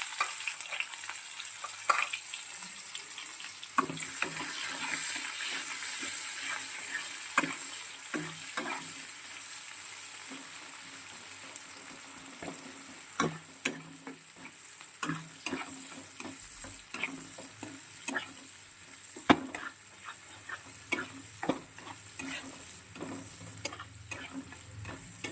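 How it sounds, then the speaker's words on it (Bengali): Chopped onion frying in hot oil with whole dried red chillies, cinnamon, cloves and black cardamom, a steady close sizzle punctuated by clicks and taps of a spoon stirring the pan, with no talking. "একদম ধীরে ধীরে করে পেঁয়াজ কুচিয়ে দিয়ে দিলাম"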